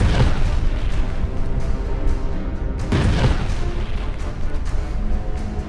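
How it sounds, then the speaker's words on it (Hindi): Israeli tanks fire shells amid explosions in Jabalia, with several heavy booms rolling out over a continuous low war rumble, one sharp blast standing out near the middle. "यहां इजराइल टैंक से गोले दाग रहा है।"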